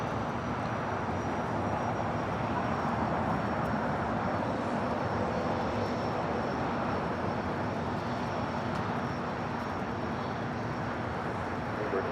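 A Lufthansa airliner arriving at Los Angeles International Airport, a steady broadband jet roar at moderate distance that holds level and continuous, with no talk over it.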